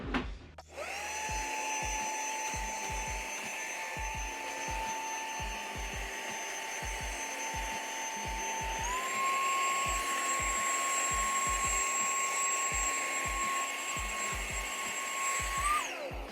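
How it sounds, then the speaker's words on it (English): A small hand vacuum cleaning up spilled soil after repotting plants, running close with a steady whirring whine over a rapid rhythmic pulsing, its pitch rising slightly partway through. "And then I'm gonna use my vacuum."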